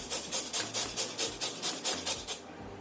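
A carrot is grated for dim sum filling in about ten even, rhythmic rasping strokes, close and steady, before the scraping stops.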